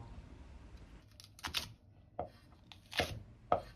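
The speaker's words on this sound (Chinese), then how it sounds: "接着来切辣椒" Knife chopping chili peppers on a cutting board, halving them and then mincing them: a few sharp, irregularly spaced strikes close by over a low background hum.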